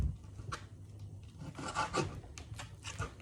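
A knife trims pork chops with soft rasping, rubbing strokes of blade against meat and a board, close and quiet, in short uneven bursts with no talking.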